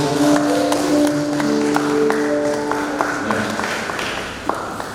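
A church congregation claps for Jesus during a worship service, a steady dense patter of many hands under a sustained musical tone and some voices.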